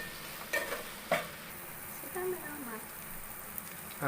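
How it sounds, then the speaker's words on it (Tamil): Garlic being added and stirred in a pan while frying for a Kanniyakumari-style stingray fish curry, a soft continuous sizzle broken by a few light scrapes and clinks of the spoon. "அந்த பூண்டை சேர்ட் பண்ணி"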